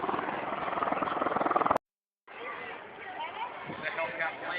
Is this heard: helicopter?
yes